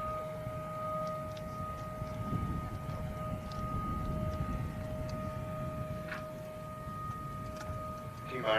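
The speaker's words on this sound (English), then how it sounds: "The siren's going" A faint, steady warning siren before a Space Launch System solid rocket booster static test hangs over a low rumbling background, with a few scattered ticks and clicks.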